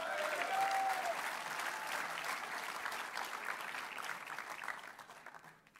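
Audience applause at a farmers' union meeting for a campaign launch, a dense continuous crowd clapping that starts loud and slowly tapers off toward the end, with no speech over it.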